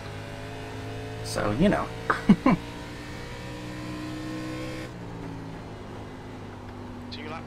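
Race car engines in the iRacing video game hum in a steady, fairly loud drone, with a few sharp rising revs or passing bursts early on; someone speaks briefly.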